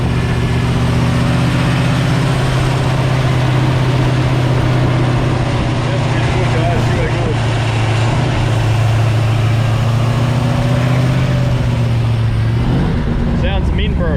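A newly built Ford 351 Cleveland V8 in an XD ute idles through cam break-in. The idle is loud, close and steady, the revs shift slightly near the end, and people talk over it.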